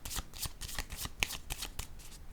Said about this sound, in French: Je vais clarifier avec d'autres cartes.